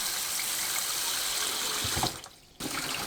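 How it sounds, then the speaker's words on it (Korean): Water runs steadily from a kitchen tap while vegetables are rinsed for pickles, a broad continuous gush that dips briefly near the end, then resumes at full strength. "흐르는 물로 씻어냅니다"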